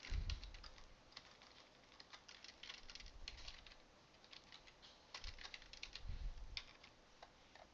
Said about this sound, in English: And I will type in the import myself.